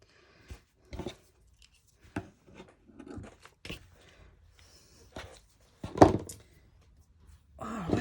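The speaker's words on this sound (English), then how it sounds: "I'm going to use my rotary cutter because I'll get a much cleaner cut." A rotary cutter slicing through a journal spine gives scattered short, dry cutting and rubbing strokes, close and fairly quiet, with one louder sharp pass near the end and no talking.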